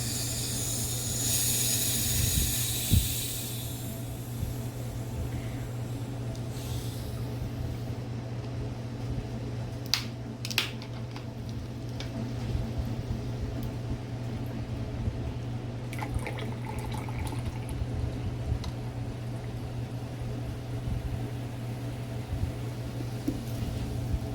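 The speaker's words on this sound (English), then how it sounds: "Hey, it fizzes like soda." Soda poured into a mix for a homemade Nuka-Cola drink, a steady fizzing hiss with faint pouring and a few brief clinks, quiet and continuous with no voices.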